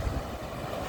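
A small fishing boat engine drones steadily at low pitch, mixed with wind noise and the wash of water around the hull, off Saeng Chan Beach, Rayong, Thailand.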